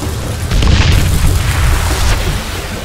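Thrown dynamite blowing up in Call of Juarez Gunslinger: a loud, close boom that swells into a sustained roaring rumble and debris wash lasting a few seconds, with no talk.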